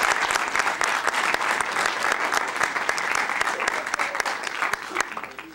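A concert audience applauds a flute player at a radio concert of baroque music, steady close clapping that continues throughout.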